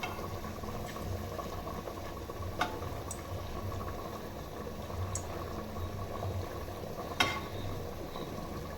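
Ajwain leaf snacks deep-frying in hot oil, a steady bubbling fizz that holds at an even level throughout, with a couple of brief sharp clicks standing out above it.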